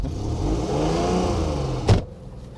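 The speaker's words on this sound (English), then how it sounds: "There, see, that's a good old Maserati engine." A classic car with a Maserati engine drives along, its engine a steady, close, rumbling drone, broken near the end by a single sharp thump and rattle as it rolls over a bump.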